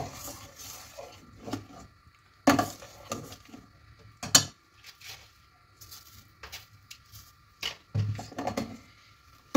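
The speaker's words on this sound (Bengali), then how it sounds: "এবার এই টাইমে আমি স্লো আঁচে একটু চিনি দিয়ে দেবো। দিয়ে ভালোভাবে এটাকে নাড়তে থাকবো।" Sugar being stirred into thickened chhana payesh over a slow flame, with a utensil scraping and clinking against the pot in irregular knocks and bursts, close and fairly loud, with quiet pauses between strokes.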